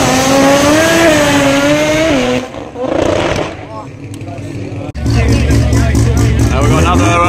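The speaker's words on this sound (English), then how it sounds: "Now we've got a Mark 1 Escort with a rotary engine coming out as well behind" Drag racing at a Malta strip: a rotary-engined Mark 1 Ford Escort roars loudly near the line, with a tonal engine sweep that dips, then a second harsh burst of revving, all under a commentator's continuous talk.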